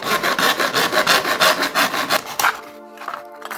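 Hand saw cutting through a piece of wood for a homemade telescope focuser, with rapid rhythmic back-and-forth strokes close by for about two and a half seconds, then stopping, followed by faint quiet handling.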